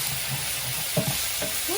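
Butter sizzles in a hot pan for Benihana-style fried rice, a continuous bright hiss with a few soft clinks and faint voice-like sounds near the end.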